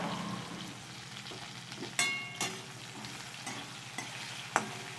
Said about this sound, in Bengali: ভেন্ডি ভাজাটা হয়ে গেছে, একটুখানি হলুদ দিয়ে নাড়াচাড়া দিয়ে দিচ্ছি